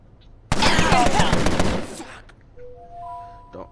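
Gunfire in the crime strategy game Empire of Sin: a sudden loud burst of rapid shots lasting about a second and a half, fading into softer game sounds and brief tones.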